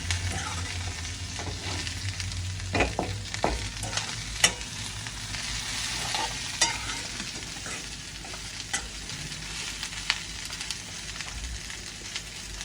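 Beans and carrot fry and get stirred in a pan: a continuous close sizzle with scattered spatula scrapes and taps against the metal, fairly quiet, with no voices.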